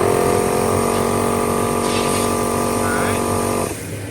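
A SmittyBilt SB2781 portable air compressor hums loudly with a steady motor drone and faint rattle, running continuously before cutting off abruptly near the end.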